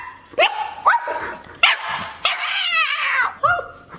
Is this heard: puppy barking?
yes